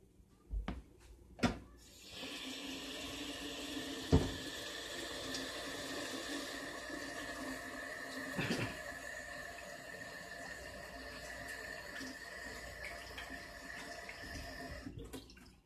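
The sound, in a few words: washing hands at the kitchen sink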